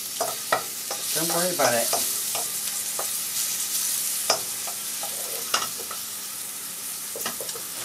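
Sliced mushrooms frying in a pan, a steady close sizzle with the clatter of a utensil stirring them; a voice briefly cuts in.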